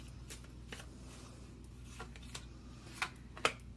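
Tarot cards are shuffled and drawn in a quiet room, giving soft papery flicks and a few sharper snaps near the end, faint against a low hum.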